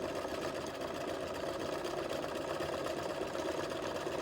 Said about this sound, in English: I'm just going around this little bit here,